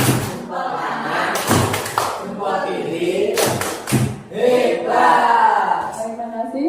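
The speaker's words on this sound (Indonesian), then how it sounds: "Tepuk hebat." Group clapping routine called tepuk hebat at a positive-culture dissemination session, with loud rhythmic bursts of claps and thuds from many people, broken by short pauses and mixed with voices.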